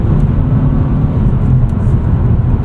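A 2024 Mazda3 with the 2.5 engine and manual gearbox revs hard against its soft rev limiter, a loud, dense, low engine roar heard from inside the car and holding steady throughout, with no talking.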